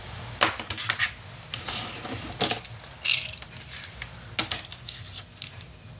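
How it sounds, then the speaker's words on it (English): Scissors cut slowly along a drawn line on paper, with a series of short, crisp snips and rustles at close range. "so I'm going to cut it"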